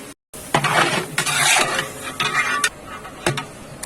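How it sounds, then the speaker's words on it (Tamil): Vegetables being sautéed in a pan for mushroom kurma, with a spatula scraping and clattering against the metal in bursts of stirring over a low sizzle, close up and without talk. "இது எல்லாமே நல்லா வதங்கி வந்துகிட்டு இருந்து"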